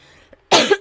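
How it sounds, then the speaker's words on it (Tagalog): A single sharp, loud cough bursts out close by after a faint catch of breath, alone with no talk. "Oo, ako'y inuubo."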